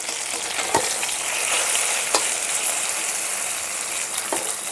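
Bitter gourd and eggplant frying in oil for shukto, a steady close hiss of sizzling with a few sharp clicks from stirring.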